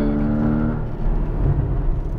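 A Porsche Cayman GTS accelerating on a racetrack, its engine a close, steady drone with a harmonic note that drops and then swells again as power comes back on.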